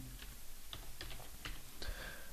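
A location name is typed on a computer keyboard: a quick run of light, close key taps over a soft steady background hum.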